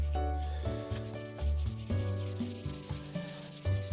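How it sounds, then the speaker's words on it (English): Repeated rough scratching strokes of coarse 600-grit sandpaper rubbed back and forth on hard plastic, close up and rhythmic, with no talking. "when you are sanding stuff down"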